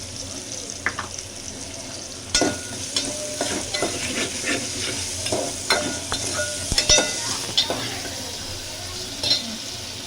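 Onions frying with green chillies, cinnamon and cloves in a pan for paya curry, with steady sizzling and repeated spoon stirring and scraping close by.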